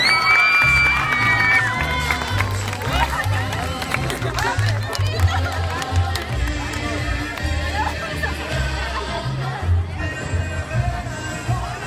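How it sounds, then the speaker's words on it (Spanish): Loud crowd cheering and applause for a candidate at a school beauty pageant, Señorita Colegio de Bachilleres, with shouting and babble over steady low music throughout. "Fuerte el aplauso para Paulina Alvarado."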